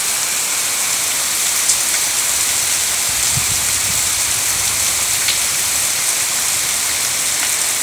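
Heavy rain falls on the south side of a house, a constant close rushing patter with a few scattered drips and no talking.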